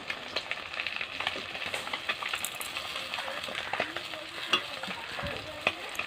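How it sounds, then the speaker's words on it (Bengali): Fish frying crisp in a pan of hot oil gives a soft, steady sizzle with scattered crackles and occasional light scrapes of turning, fairly quiet and with no talking. "একদম কড়া কড়া করে ভেজেছি মাছ"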